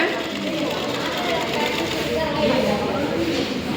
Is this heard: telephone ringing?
no